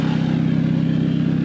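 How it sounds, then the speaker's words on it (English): A Hyundai/Kia car engine idles smoothly after a timing solenoid repair, with a steady, even low hum and a regular pulsing rhythm, loud and close. "You'll see the engine is running nice and smooth."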